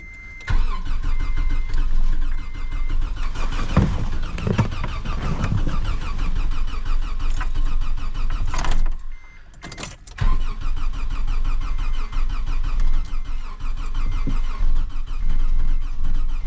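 A car engine hums steadily up close from inside the cabin on the drive home after a freezing camping trip, with a brief dip and a sharp knock partway through.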